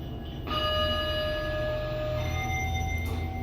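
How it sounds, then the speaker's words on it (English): The arrival chime of a 2015 Schindler 3300 traction elevator at a Hilton Garden Inn in Indiana, Pennsylvania rings out as a clear sustained bell tone, followed by a second softer chime near the end over quiet cab hum. "Love that chime."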